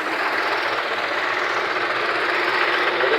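A 2019 Tata 1109 EX2 truck's diesel engine idles steadily, a constant mid-range rumble that holds at an even level throughout with no talk over it.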